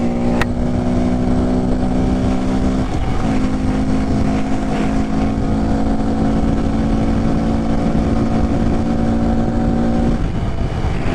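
A Honda Grom motorcycle carrying a passenger pulls at full throttle, its engine drone holding steady with a shift partway through before climbing again, loud and close over constant wind rush.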